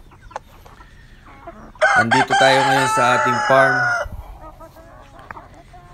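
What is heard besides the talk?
free-range chickens clucking on a farm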